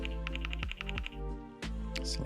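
Fingers typing on a computer keyboard, a quick run of close, crisp key clicks followed by a few scattered taps, with brief gaps between bursts.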